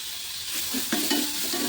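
Chopped onion, ginger and garlic sizzle softly in a pan, a quiet frying hiss with a few stirring scrapes toward the end.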